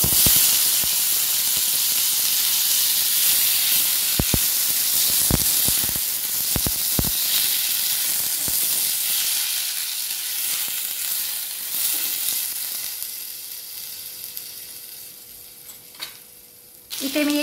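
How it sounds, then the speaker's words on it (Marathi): Cut raw mango pieces hit hot oil with cumin seeds, giving a loud, steady sizzle and frying hiss that runs throughout with a few sharp crackles and stirring clatters, easing slightly toward the end. "कैरी कापलेली घालत आहे।"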